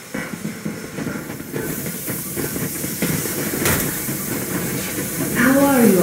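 Steam locomotive in the Metro Exodus video game pulling away at full steam, a broad loud hiss with clanking metallic knocks and rumble, a voice speaking under it near the end.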